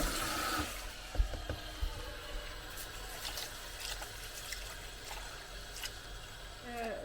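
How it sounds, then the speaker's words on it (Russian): Rice being washed under running water in a pot for a rice pudding, with sloshing, trickling and occasional knocks close by as a person speaks. "рис должен быть промыт максимально идеально, скажем так. Моем."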